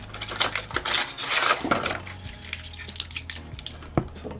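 A frozen brine shrimp cube is pushed out of its plastic tray with a series of close, sharp clicks and crackles, followed by a few scattered taps and snaps.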